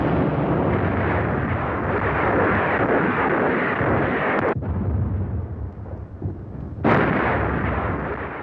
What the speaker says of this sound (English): A new form of artillery, the multiple launched rocket system,